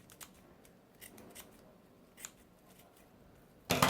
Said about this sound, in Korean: 자르고 끝부분을 이렇게 칼질 해주세요. 이렇게 가위질